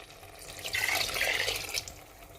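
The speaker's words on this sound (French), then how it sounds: "ajouter 1 à 2 verres d'eau" Water poured from a glass into a pot of rice being cooked for a simple rice dish, a steady splashing pour of about a second and a half, close and moderately loud, with no talk.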